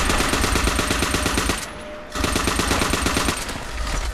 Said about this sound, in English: Look at this gun. I like the way that thing fires.